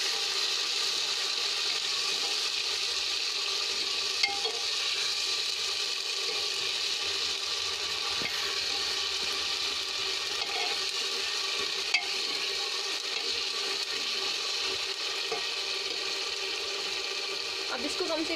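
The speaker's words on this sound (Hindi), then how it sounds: "इसको चला देंगे थोड़ी देर के लिए" Ginger, garlic and onion paste fried in a pan of hot oil for a black chickpea curry, a steady, close sizzle with occasional scraping of the spoon as it is stirred, continuous throughout.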